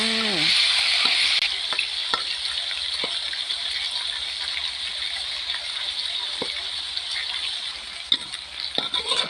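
Ingredients stir-fried with an egg mixture in a hot pan give a steady, close sizzle from start to end, broken by scattered scrapes and knocks of a utensil.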